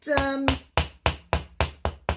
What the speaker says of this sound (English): I'm going to hammer the end a bit as well